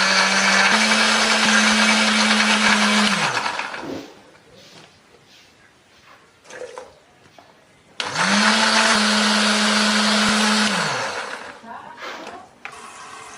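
A kitchen blender whirs loudly, grinding roasted candlenut and coriander with shallots, garlic and a little water into a spice paste in two long bursts, with quiet talk in the pauses between.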